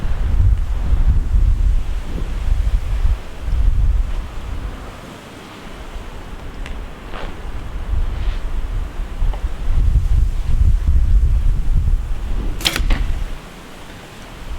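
Wind blusters across the microphone outdoors at an archery range, rising and falling in strong low gusts. Now and then a faint thud comes through, as from an arrow shot with a PSE Supra Focus XL compound bow.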